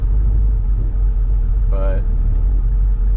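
A Chevelle rolls along on a grocery run, its engine a loud, steady low rumble from inside the car, with a brief voice cutting in partway through.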